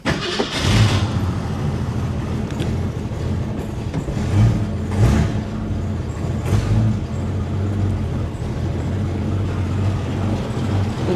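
A 1966 Ford Mustang with a 3.3 liter inline six and three-speed automatic starts cold, with a short cranking burst that fires into a rough, loud idle with a few throttle blips, close and steady.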